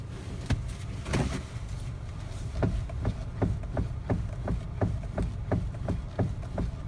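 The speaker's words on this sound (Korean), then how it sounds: "자, 제가 한번 핸들을 흔들어 볼게요" Rhythmic knocking from the MDPS steering of a 15-year-old Hyundai Avante HD with 150,000 km as the steering wheel is shaken, a steady run of sharp clunks about twice a second over low cabin hum.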